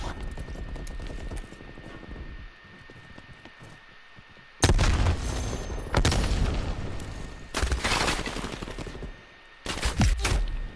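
Gunfire in a first-person shooter video game, first a distant sustained rattle, then loud close bursts of automatic fire in several separate volleys with short gaps between them.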